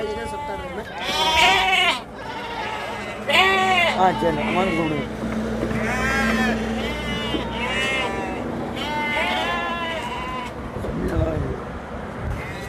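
Goats bleat repeatedly and loudly while being loaded onto a Tata 1109 truck for a Hospet to Tirupur haul, a crowded chorus of overlapping calls with people talking throughout.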